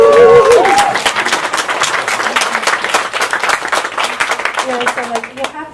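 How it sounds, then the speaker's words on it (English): A panel audience breaks into a round of applause with some cheering, loud and sustained across the whole stretch and slowly thinning toward the end, with a voice briefly heard near the start. "give her a round of applause"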